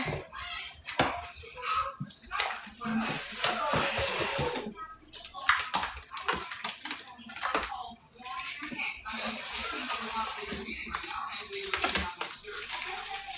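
Powder poured into pool water makes splashy, fizzing sounds and soft pours as suds build up, while a voice talks intermittently over the watery bursts.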